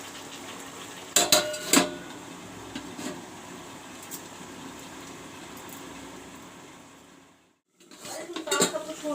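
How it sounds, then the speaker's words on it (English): A lid set down on a cooking pot of chicken curry, with two sharp metallic clatters early on, then a steady frying hiss and a brief pause before more clinks of cookware near the end. "Now I will cover this up and let it cook."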